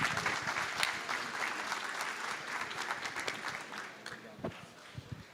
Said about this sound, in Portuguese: peço uma salva de palmas para o homem